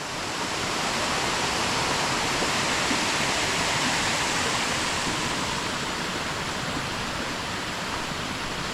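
A burn tumbles over rocks in a small waterfall near Stainforth, giving a steady, full rushing roar that stays loud and unbroken throughout with no voices.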